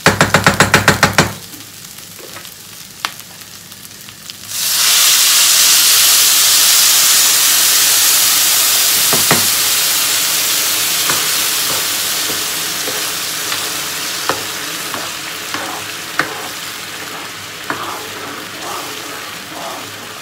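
Water is poured into a hot pan during home cooking of a spinach dish, bursting into a loud, sustained hiss of steam and sizzling that slowly eases, with a few clinks of stirring throughout.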